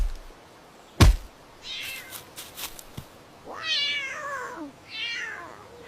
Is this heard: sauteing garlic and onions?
no